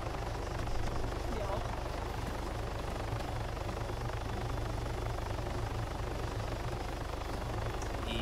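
Helicopter in the video game Arma 3, a steady low rotor thrum droning continuously at moderate level, with faint voices talking over it.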